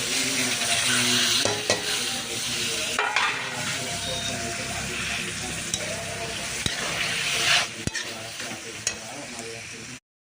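Tomatoes frying in spiced oil in a pan while being stirred for a soya chaap curry, a continuous close sizzle with scraping spoon strokes and occasional clinks against the pan.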